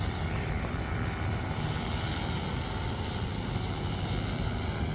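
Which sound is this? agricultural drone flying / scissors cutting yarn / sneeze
agricultural drone flying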